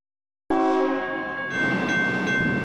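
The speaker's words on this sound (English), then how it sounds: "Freight trains are big machines" A long freight train in Arizona blasts its horn loudly and close by, the sustained blaring tone riding over rumbling wheels and railcar noise.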